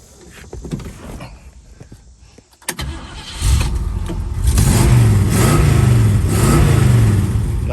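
A 1965 Ford Mustang with automatic transmission cranks briefly, catches and settles into a steady, loud running rumble with slight rises in revs, close by with no talk.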